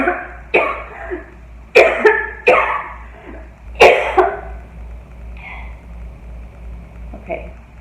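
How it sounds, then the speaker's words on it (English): A person gives several short, dry, forced coughs in quick bursts, with pauses between them in a quiet room. "just kind of like force a cough"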